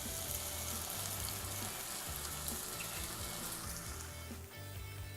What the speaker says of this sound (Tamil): இந்த இடத்துல வந்து நம்ம முட்டையை உடச்சி ஊற்றி முட்டையை வந்து கொஞ்சம் பொரிச்சு எடுத்துக்கலாம்